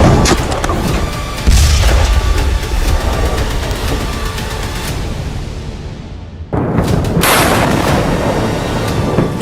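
Heavy booms and blasts from artillery and explosions in a war zone roll in a dense, loud wash of rumbling noise, with a brief drop before another strong burst, and no talking.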